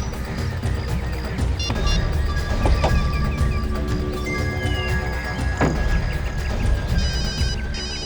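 A phone rings with repeated electronic tones over a busy, cluttered background of clatter and low noise, fairly loud throughout.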